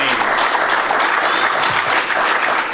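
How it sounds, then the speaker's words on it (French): A church congregation applauds loudly and continuously, a dense wash of clapping hands filling the space with a few voices mixed in beneath. "acclamer, acclamer, acclamer pour la gloire du Seigneur"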